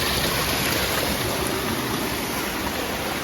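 A small waterfall and stream, Chhyappa falls in Nepal, give off a steady, close, full rushing of water that holds even for the whole stretch, with no voices.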